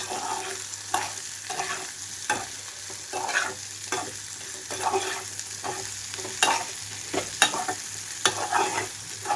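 Pieces of bitter gourd fry in a hot pan, giving a steady sizzle broken by regular scraping clacks as a spatula stirs them, close and alone with no voices.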